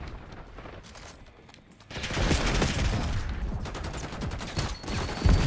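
Video game gunfire erupts in a dense, loud burst of rapid shots after a quieter stretch, continuing steadily to the end with a final heavier crack.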